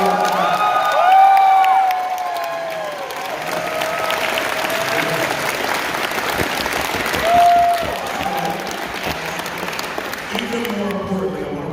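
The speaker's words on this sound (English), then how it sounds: "a round of applause for the Mighty Morphin Power." Audience applause and cheering for the Mighty Morphin Power Rangers cast at a fan convention panel, a sustained crowd clapping with scattered whoops and shouts for nearly twelve seconds.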